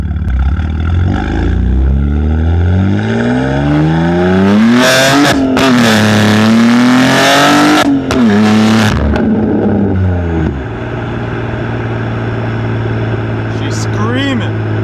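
A BMW G80 M3 in Sport Plus with its exhaust valves open pulls hard through the gears. The loud engine note rises, drops at each shift and then settles to a lower drone, with a voice over parts of it.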